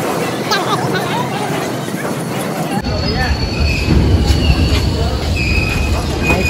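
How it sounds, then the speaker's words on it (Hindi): A train at Allahabad (Prayagraj) railway station, steady rumbling rail noise with thin metallic squeal, loud and close amid a busy platform crowd murmuring in the background. "तो गाइस ये है इलाहाबाद स्टेशन प्रयागराज, देख सकते हैं।"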